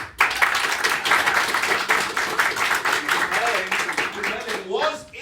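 An audience at a Wild West murder mystery show votes on a suspect with a burst of steady clapping that runs nearly throughout, with a voice breaking in near the end as it fades.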